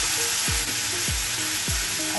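Potato and soybean pieces fry in a pan under a dense, steady sizzle, with three spatula strokes stirring them at a slow, even pace.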